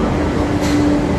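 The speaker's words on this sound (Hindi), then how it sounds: "ये है मेट्रो।" Delhi Metro train arriving at a station platform, a loud steady rumble and rail hiss with a brief high electric whine, no talking.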